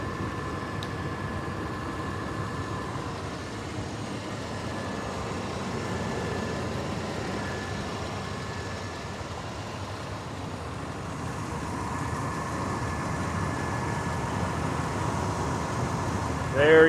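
A 1996 Ford Bronco XLT with a 5.8L V8 and automatic transmission idling with its AC compressor engaged, a steady low engine rumble holding even for the whole stretch, heard close up.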